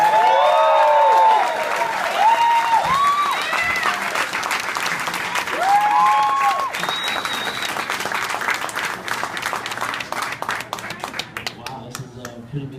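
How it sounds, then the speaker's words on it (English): A crowd gathered at an outdoor tribute claps steadily, with loud applause, a few cheers and a voice over it, then the clapping thins out and fades. "Can everybody please put your hands together"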